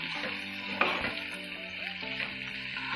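Chicken is stirred into a sizzling masala of capsicum and onion in a pan, frying steadily with scraping spoon strokes and a sharp clink near the start, no one speaking.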